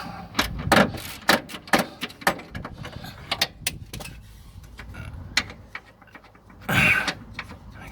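Bolt being worked loose with a 7/16 ring spanner: a string of sharp metallic clicks and knocks, close and fairly loud, ending in a louder clatter, with no talk.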